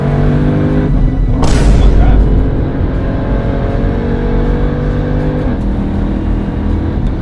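A Jeep Trackhawk's engine roars loud and sustained under hard acceleration toward top speed, with a steady drone, a burst of wind or road noise partway through and a shifting pitch as it climbs.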